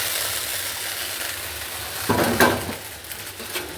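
Okra dropped into a pan of oil and spices for an okra and shing fish dish. A low sizzle holds steady, then a sudden louder burst of frying and pan clatter rings out and fades back to a steady sizzle.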